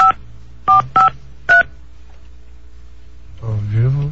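Telephone keypad DTMF tones for a prank call: four short distinct beeps in an irregular sequence, clear and close, followed by a brief voice at the end.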